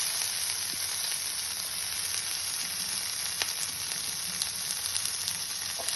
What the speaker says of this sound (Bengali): বাটারটা একটু মেল্ট হলেই আমি এর মধ্যে দিয়ে দেব কর্ন।